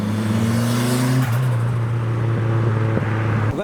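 A Bayside Blue Nissan Skyline R34 pulls up at a large car meet, its engine holding a steady low drone with a shift in pitch partway through, close and loud, ending with a brief rev as it stops.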